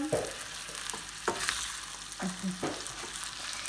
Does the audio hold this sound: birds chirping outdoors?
no